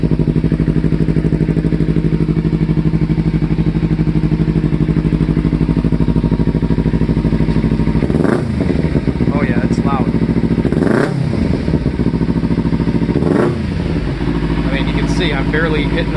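Kawasaki Ninja motorcycle with a Ransoto slip-on exhaust and its insert removed, idling loud and deep close by, with three short throttle blips revving up and settling back.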